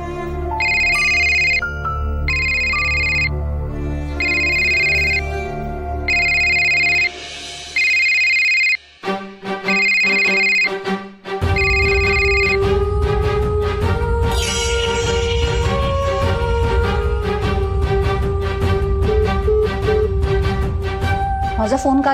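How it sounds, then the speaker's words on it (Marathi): A mobile phone ringtone sounds in repeated bright bursts for several seconds, then gives way to dramatic background music with a low swell under it. "फोन वाजत होता म्हणून घेतला मी"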